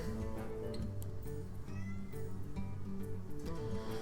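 A cat meows repeatedly in a drawn-out, wavering voice, close by and fairly loud, with the calls nearly continuous over a low background hum.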